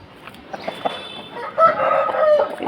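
A home-bred black Pattha Aseel rooster crows once, faint and somewhat distant, preceded by a few soft clucks.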